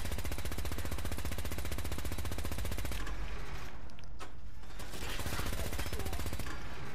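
Rapid automatic gunfire in the Fallout 4 video game, a dense, loud, continuous stream of shots lasting the whole stretch, with a brief thinning partway through before the firing resumes.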